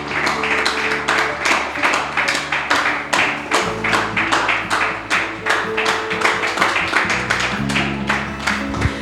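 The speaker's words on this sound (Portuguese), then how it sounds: "dê uma salva de palmas para Jesus" A church congregation claps together in a quick, steady rhythm, the claps dense and close, with sustained low musical tones carrying underneath.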